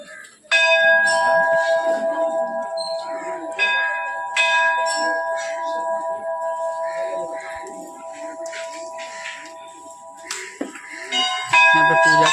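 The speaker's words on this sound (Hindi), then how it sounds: "इधर भी घंटी है गाइस" Brass temple bells at Tilinga Mandir in Assam are struck repeatedly, each clang leaving a long, sustained metallic ring that overlaps the next, with faint background voices.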